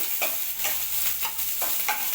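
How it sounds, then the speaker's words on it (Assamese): Green chillies and a large onion sizzling in oil in a kadai, with repeated stirring scrapes, a steady crackle broken by rhythmic strokes, close and fairly quiet. "ইফালে কেৰাহীত কেঁচা জলকীয়া ফালি দিছোঁ তেলত আৰু দিছোঁ ডাঙৰ পিঁয়াজ এটা।"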